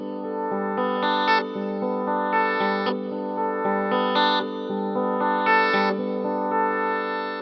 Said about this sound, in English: what you're about to hear is me controlling the Long Life with the side step moving in a sawtooth wave shape